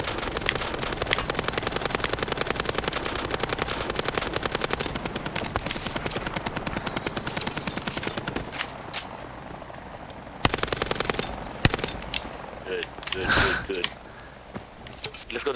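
Machine-gun fire in Call of Duty Black Ops 4 Blackout on Xbox One rattles in steady rapid bursts throughout, with a loud blast near the end, while players talk over the shooting.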